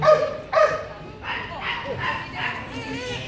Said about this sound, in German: Personen müssen durch Bellen angezeigt werden